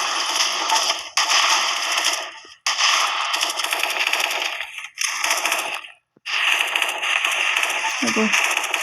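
Desert Eagle pistol fire in a shooting video game comes as bursts of loud, sharp, crackling shots that run in long dense stretches broken by brief pauses, while a player talks over it.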